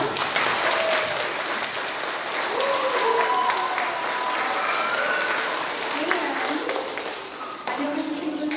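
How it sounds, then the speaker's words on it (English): Enthusiastic applause in a school multi-purpose room after a children's drama club performance at Forked River School, loud and continuous throughout, with voices and cheers mixed into the clapping. "give yourselves a round of applause"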